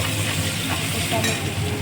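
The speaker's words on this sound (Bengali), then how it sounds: "পেঁয়াজ কোচানোগুলো হালকা ভাজা ভাজা হবে" Sliced onions fry in oil with panch phoron and dried red chillies, a steady, close sizzle and crackle running the whole way with faint stirring underneath.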